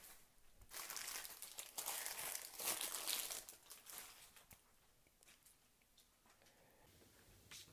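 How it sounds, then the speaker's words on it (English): Paper packing from a PowerA Play & Charge Kit for Xbox One is crumpled and pulled aside during unboxing, giving dense, close crinkling for several seconds before it eases into softer, sparser rustles. "Let me get some of this paper out of the way."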